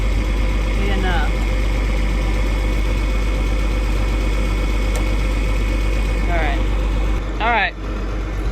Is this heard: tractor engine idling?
yes